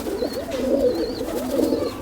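Pet pigeon in Jammu and Kashmir giving soft, rolling coos in repeated phrases, close and clear over a faint background.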